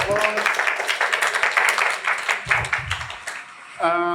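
Audience applause at a Talkaoke talk-show event, a dense, steady burst of clapping lasting several seconds before it fades and a voice begins speaking.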